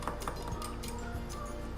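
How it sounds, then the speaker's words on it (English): A whisk beats chilled milk into flour in a bowl, making faint, quick metallic clinks and scrapes in a kitchen, quiet and with no speech. "After adding milk to the flour, we have to make sure we have to whisk it"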